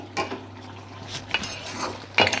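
A spoon stirs beef heart and liver in a pan for bhuna, giving a few soft scraping and clinking strokes against faint background hum, with quiet gaps between them.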